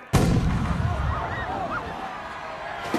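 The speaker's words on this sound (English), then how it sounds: "And at the sound of the cannon." A cannon blast signals the start of a tournament task on a lake in Harry Potter and the Goblet of Fire, one sharp boom that rings out and fades beneath a murmuring crowd.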